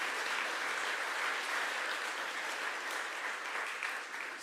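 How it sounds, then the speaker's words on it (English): Steady, even applause fills a hall at an awards ceremony as the audience claps for the teachers, moderately loud and unbroken throughout. "So I think a little round of applause for the teachers."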